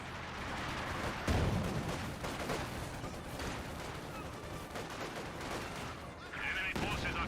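An MG34 machine gun fires in the real-time strategy game Company of Heroes 2, a distant rattling burst mixed into busy battle noise while a commentator talks over it.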